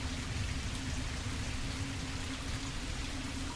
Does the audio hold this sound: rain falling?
yes